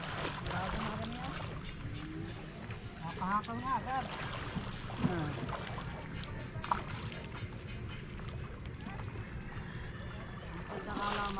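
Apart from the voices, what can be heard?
boat engine running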